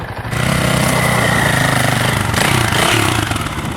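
A dirt bike engine, loud and steady, climbs a hill in a canyon, with a continuous rough drone that rises slightly in intensity partway through and holds strong to the end.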